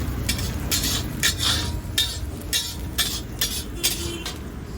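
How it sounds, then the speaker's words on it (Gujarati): Capsicum sautéed in a pan over low heat, with repeated metal spoon scrapes and clinks against the pan at a steady rhythm over a soft sizzle, no voices. "ધીમા તાપે સાંતળી લઈશું હવે એને પ્રોપર તરીકે."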